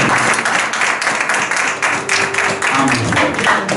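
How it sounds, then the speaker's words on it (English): A church congregation claps together through a missions week service, steady dense applause sustained across the whole span with some tonal sound running beneath it. "Let's give Jesus a"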